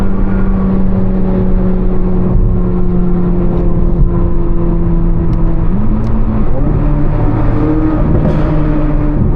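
A Corvette C8 Z06 with the Z07 package accelerates on an early morning drive, its engine droning loud and steady from inside the car as revs climb, with a few brief sharp exhaust pops breaking through.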